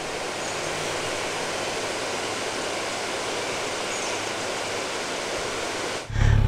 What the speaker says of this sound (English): that was a look at the Niangua River here at Bennett Springs State Park